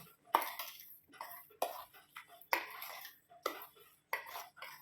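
Aval mixture, a flattened-rice snack with salt and sugar, being stirred in a bowl: five or six rhythmic scraping, clinking strokes of a utensil against the bowl, close and fairly loud, with no voice.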